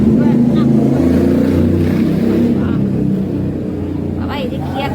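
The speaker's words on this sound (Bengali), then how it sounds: "এই যে কি একটা বাইক চালায় এই ছেলেটা, কি বিকট আওয়াজ" A loud motorbike passes outside a house, its engine drone strong at first and then fading away over a few seconds.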